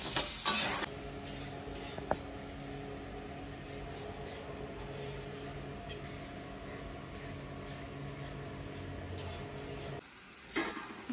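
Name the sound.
stirring and frying spice masala with potatoes for paneer kosa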